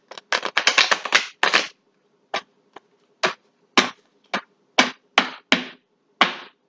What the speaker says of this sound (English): I'm going to shuffle, and I'm going to do one more time